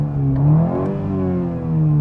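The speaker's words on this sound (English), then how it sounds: "The 2-liter sounds okay, but it's a little raspy sometimes" A 2021 Toyota Supra's 2.0-liter turbocharged engine revs up and falls back in a close, loud, harmonic rise and dip, then climbs again, alone with no talk.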